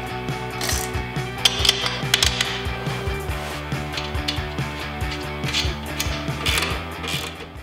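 Bolts are tightened with a ratcheting tool while assembling the leg of a Kobalt portable table saw, producing rapid, close, rhythmic ratchet clicks in several bursts.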